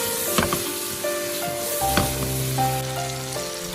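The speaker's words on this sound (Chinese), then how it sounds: "接着把刚才切好的青红椒放入锅中，再快速的翻炒" Green and red peppers hit a hot wok with lotus root and sizzle steadily while being stir-fried quickly, a continuous frying hiss with occasional scrapes and clinks of the spatula.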